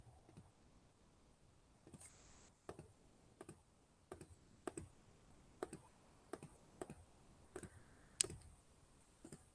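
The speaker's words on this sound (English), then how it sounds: "and type that in my calculator" Keys tapped on a calculator: a steady series of about a dozen sharp, close clicks at roughly even half-second spacing over quiet room tone, with no talking.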